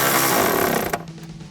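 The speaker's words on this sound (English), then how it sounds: "we can tighten up that clamp with our 8mm socket" A power driver with an 8mm socket whirs loudly and steadily as it tightens a clamp on the cold air intake filter coupler of a RAM 1500, then cuts off abruptly near the end, leaving a faint quiet tail.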